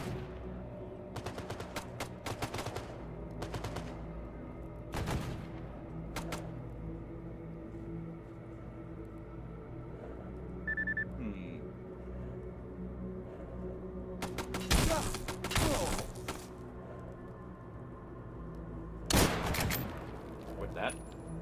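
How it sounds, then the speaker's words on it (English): Gunfire at zombies in the video game Stalker GAMMA, scattered bursts of shots separated by quieter stretches, with louder volleys near the middle and end over a low ambient bed. "we get the zombies right here shooting at them"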